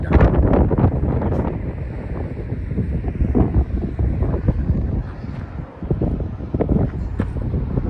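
Strong wind on the Transfăgărășan mountain road buffets the microphone, a loud continuous roar with gusty bursts throughout, no talking.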